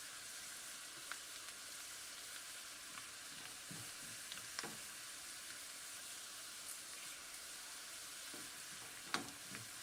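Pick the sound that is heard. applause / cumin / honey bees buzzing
cumin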